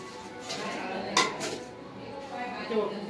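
Copper vessels being gathered and handled at home before a Satyanarayan puja, giving one sharp metallic clink amid soft scraping and rustling, with faint voices in the background.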